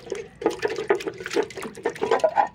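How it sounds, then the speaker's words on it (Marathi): An appe pan is washed with soapy water, producing close, busy splashing and sloshing with short scrubbing and rinsing bursts throughout. "साबणीचं पाणी वगैरे करून धुवून टाकायचं आहे"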